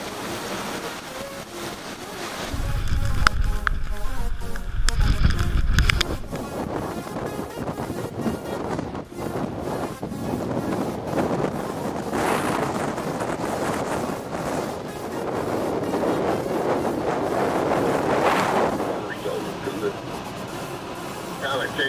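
Category 2 hurricane winds of over 100 mph hit a coastal area, roaring and buffeting the microphone in loud gusts with surf mixed in, steady throughout, swelling strongly near the start and again later, under a voice talking.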